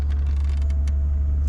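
Power seat back and headrest motors adjust in a 2017 Mercedes-Benz SL65 AMG Designo cabin, a steady close electric whir with faint clicks and creaks over a low hum.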